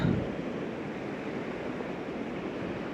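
Steady broadband roar of sea surf washing in at an Italian port, continuous and fairly loud with no distinct breaks, mixed with some wind rumble.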